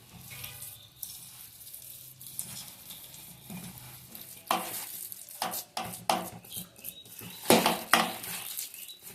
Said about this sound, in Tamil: போட்டு கையிட்டு நல்லா பிசைஞ்சுக்கோங்க.